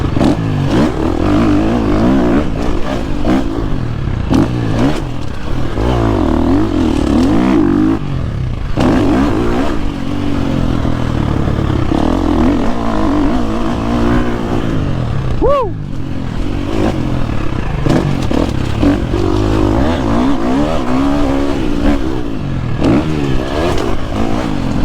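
Quad bikes ride close by with engines revving and rising and falling continuously, joined by clattering and scraping. A voice talks over the engine noise throughout.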